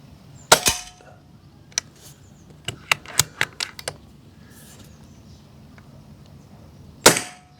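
Several Air Arms S510S .22 carbine air rifle shots firing pellets, each a sharp, close snap, with one loud crack at the start, a spaced run of quieter pops in the middle and another loud shot near the end.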